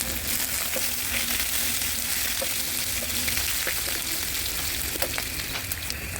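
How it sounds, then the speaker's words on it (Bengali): Ginger and green chilies frying in mustard oil for a vegetable dish, a steady close sizzle with faint crackles and occasional stirring ticks, and no talking. "আদাটা কাঁচামরিচ একটু ভাজা ভাজা হলে তারপর সবজি দিবেন।"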